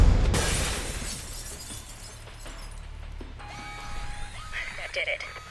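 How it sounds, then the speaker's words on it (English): Glass shatters in Alpha Protocol, a single loud, sharp crash at the very start that trails off into quieter room noise, followed by faint electronic tones and some voices. "But you might be able to find a way to break the glass."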